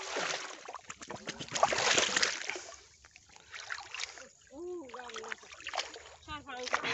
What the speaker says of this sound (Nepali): अहिले चाहिँ म यहाँ तल पानीमा सेक्सन पाइप मिलाउन जाँदैछु।